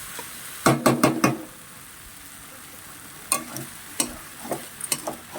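Vegetables being stirred in a hot frying pan: a quick cluster of spatula scrapes and knocks, a quiet pause, then scattered scrapes again over a low sizzle, with no talking.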